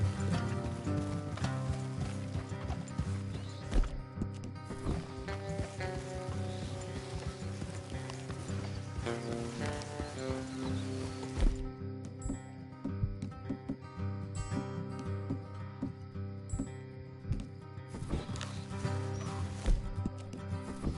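Horses' hooves in Red Dead Redemption 2 clop along a trail in a steady rhythm, set in a full layered game soundscape with a background music score running throughout.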